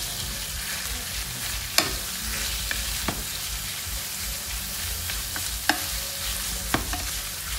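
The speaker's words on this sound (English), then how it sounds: "And we're gonna brown this for a little while." Ribeye sizzles steadily while browning in a pan with vegetables, a constant close frying hiss punctuated by a few sharp clicks of utensils being stirred.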